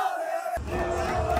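A large crowd of Brazilian fans chants and cheers in unison, a loud, dense wall of voices that swells after a brief quieter opening.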